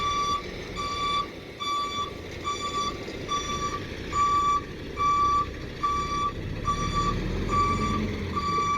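Truck reversing on a muddy trade-test course, its reversing alarm giving a steady series of evenly spaced, high beeps, with the engine rumbling low underneath and growing heavier toward the end.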